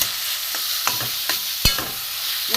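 Carrot frying in ghee, a steady close sizzle broken by several sharp scraping stirs of a spoon against the pan, with no talking.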